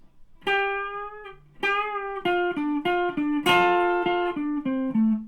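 Slow single-note guitar solo line from a song, a clear melody of sustained, separated notes stepping downward, played alone at a deliberate tempo.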